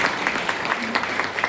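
An audience at an anniversary stage event claps in steady, dense applause, a continuous patter of many hands filling the short stretch with no speech.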